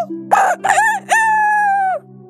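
A cartoon rooster crows once, loud and close: a couple of short rising notes, then a long, steady drawn-out call, set over a constant low hum.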